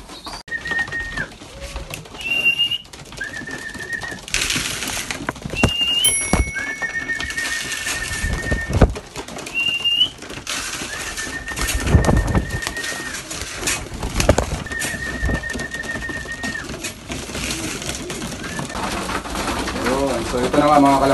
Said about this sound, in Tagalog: So tawagin ko na yung mga kalapati natin sa labas